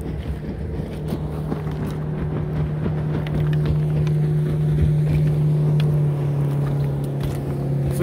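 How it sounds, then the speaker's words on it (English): A motorboat passes on a river, its engine a steady low hum that swells slightly midway, heard at a distance under wind noise with no talking. "There's a boat coming down."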